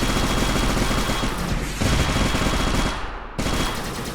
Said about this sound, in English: The turrets go crazy.